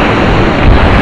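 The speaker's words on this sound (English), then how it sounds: "Here comes the waves." Sea waves crash and roll in a dense, loud wash of noise with heavy wind buffeting close to the microphone, no voices at that moment.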